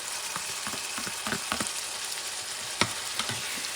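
Ground meat with grated small Roma tomato frying in a pan for 1950s Puerto Rican carne molida, a steady close sizzle broken by scattered stirring scrapes and a sharp clack near the end.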